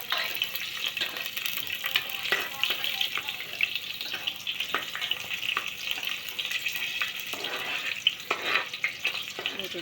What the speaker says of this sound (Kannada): ಈಗ 2 ಗೋಡಂಬಿ ತುಪ್ಪವನ್ನು ಹಾಕೋಣ ನಾವು. ಇದಕ್ಕೆ ಚೆನ್ನಾಗಿ ಫ್ರೈ ಮಾಡ್ಕೊಳ್ಳೋಣ.